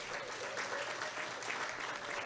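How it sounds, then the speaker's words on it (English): A room full of people applauds steadily, a dense even wash of clapping with no pauses, heard from within the audience. "Those that are not clapping are jealous."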